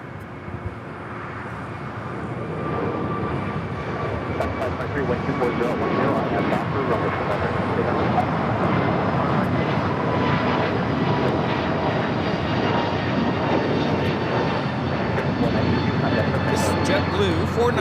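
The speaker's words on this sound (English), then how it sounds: "JetBlue 492 taking off to Buffalo on the A220-300" A JetBlue Airbus A220-300 jet on its takeoff run, the roar building over the first few seconds and then holding loud and steady, with thin high engine whines running through it.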